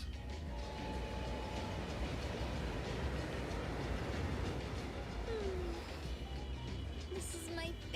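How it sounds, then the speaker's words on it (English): Trains passing through a city street in the video game Neverness to Everness, a steady rumbling rail roar with clacking that fills the scene, plus a faint squeal near the end, under low background voices. "There's trains!"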